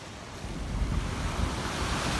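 Ocean waves break at the water's edge on Durdle Door beach in Dorset, giving a close, continuous surf roar with swelling rushes and some wind buffeting the microphone, with no voices.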